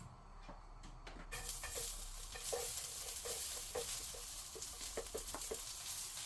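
Garlic hits hot cooking oil in a pan for chicken adobo; after a quiet second a soft, steady sizzle rises, punctuated by light stirring clicks, faint and without speech.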